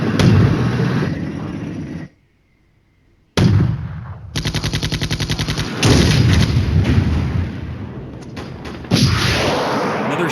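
Gunfire and artillery in Flashpoint Campaigns: Red Storm, with Jaguar units trading fire: loud rattling machine-gun bursts and heavy booms, broken by a short silence, then resuming in dense rapid volleys.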